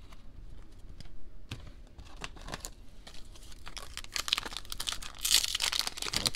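Close crinkling and tearing of a foil Topps Stadium Club baseball card pack, a busy run of sharp crackles and rips that grows louder and denser toward the end.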